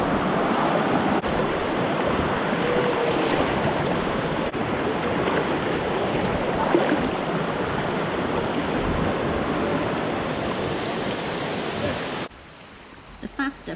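Fast-flowing river water rushes steadily while tubing in Grenada, a loud, continuous broadband wash that stays constant for about twelve seconds before cutting off abruptly, with faint voices mixed underneath.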